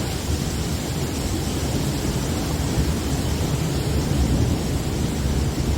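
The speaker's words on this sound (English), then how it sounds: "Listen to that wind." Steady, loud roar of wind blowing continuously outdoors during a Michigan severe thunderstorm, a broad rushing noise with no pauses or voices.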